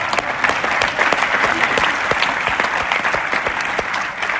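Audience applause at a kavi sammelan poetry event during the Thomso festival at IIT Roorkee: dense, sustained clapping from a large crowd, steady and loud throughout without a break.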